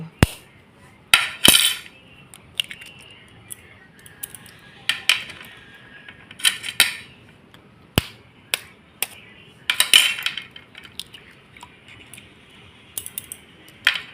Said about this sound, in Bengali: এখানে আমি দুটো ডিম ফাটিয়ে নেব